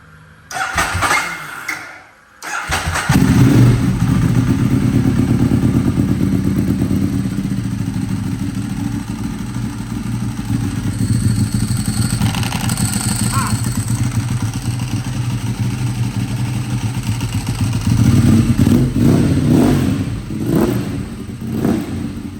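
An 1198S motorcycle fitted with an R engine cranks and fires up after a short pause, then idles loudly and close by with a rough, throbbing beat before a couple of sharp revs near the end.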